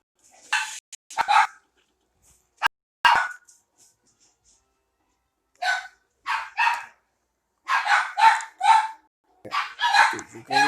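Short close dog barks come in scattered bursts, mixed in with nearby voices talking over a game of Among Us.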